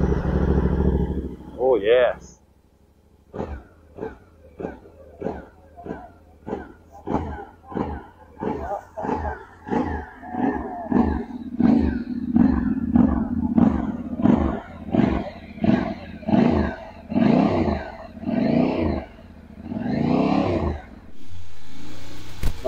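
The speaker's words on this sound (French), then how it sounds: "Premier démarrage du moteur." A brand-new 2024 Yamaha Ténéré 700 motorcycle starts for the first time, then idles and warms up with a series of rhythmic throttle blips and revs, close by, with a person exclaiming and talking over it.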